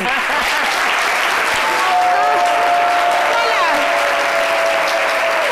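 Studio audience applause for a birthday dedication on a French-language celebrity gossip show, dense and loud clapping throughout with faint voices and cheers mixed in.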